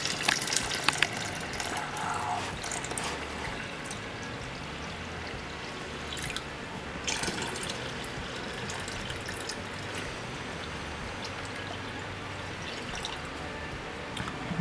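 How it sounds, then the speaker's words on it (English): Water runs from a small fountain into a pool in a handmade jungle fingerboard park, a continuous soft splashing and trickling with scattered drips, fairly close and unbroken, with no voices. "So it's running out of there right now. The fountain is working."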